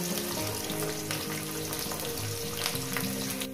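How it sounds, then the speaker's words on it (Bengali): Chopped onion sizzles steadily in a pan, a dense continuous frying hiss at moderate level with faint stirring clinks underneath, with no voices. "পেঁয়াজটাকে আমি ভেজে নিয়েছি"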